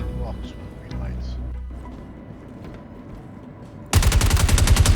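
Gunfire aimed at an orange generator box with green lights in the space game Star Citizen, arriving as a loud, dense burst of rapid shots near the end after quieter game ambience and a voice.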